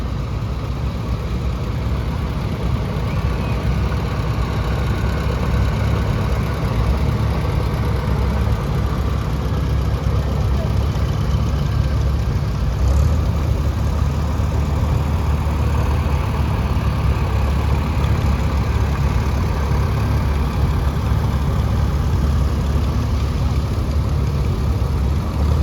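Tractors, including an Oliver and a John Deere, gathered for an evening tractor pull sit idling with a steady, loud low rumble and a constant hum that carry on unbroken for the whole stretch, with no talking.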